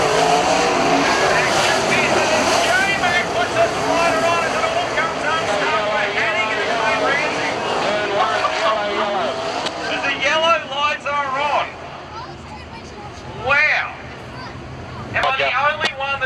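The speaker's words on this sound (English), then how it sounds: "So Farr to lead them off in the Q7, McFadden in second." Sprint cars racing in a heat at Avalon raceway, a loud continuous engine roar with rising and falling revs as cars pass, under crowd babble and a commentator's voice.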